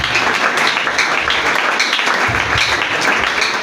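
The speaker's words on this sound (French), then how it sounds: "Acclame très fort la parole de Dieu" A church congregation at a worship and praise service applauds loudly and steadily, dense clapping filling the space for a few seconds without talk.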